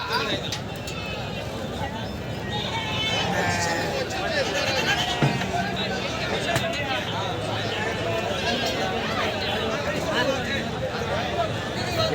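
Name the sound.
goats bleating at a livestock market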